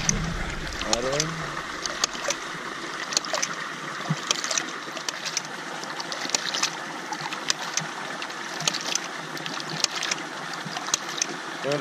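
A homemade ram pump pushes water about 20 feet up to a tank, giving a steady rush of flowing water broken by irregular sharp clicks and knocks, with a brief voice near the start.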